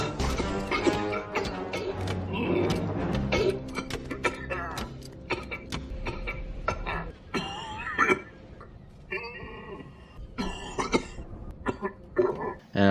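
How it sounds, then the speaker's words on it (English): General Grievous's raspy, rattling coughing sound effect repeats throughout, layered over dense, busy music-like background sound that runs continuously for about thirteen seconds. "General Grievous does cough a lot, and I guess that's George Lucas."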